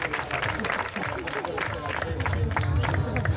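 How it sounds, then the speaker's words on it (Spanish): Audience applauding a contestant at a bodybuilding muscle model competition, steady broadband crowd clapping with cheering and babble throughout, under a host's voice. "Un aplauso para Ismael."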